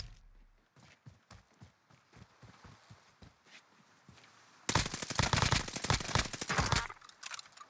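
Gunfire in a shooter video game: first a series of quieter, spaced thuds like footsteps or single shots, then a sudden loud, rapid automatic burst that keeps hammering away to the end.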